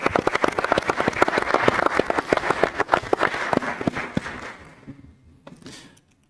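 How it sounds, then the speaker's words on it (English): Applause at a Georgetown County Council meeting: a small group clapping close by in quick, distinct hand strikes that thin out and trail off into a few last claps and quiet. "Let me give her a round of applause"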